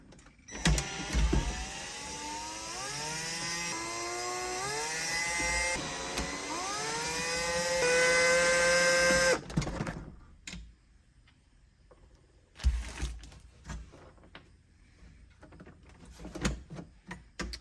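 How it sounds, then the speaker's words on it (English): A motorized screwdriver whirs in rising, whining bursts as it backs T15 Torx screws out of a 15.6-inch laptop screen, loud and close for several seconds, followed by quieter clicks and handling. "I think I'm back to T15 Torx that we're going to go ahead and pull out of here."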